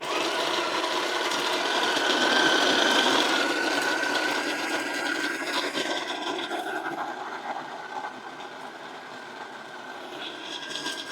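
Coffee beans being ground in a Bodum Bistro burr grinder, a steady close whirring grind that holds loud and then gradually thins and quietens toward the end.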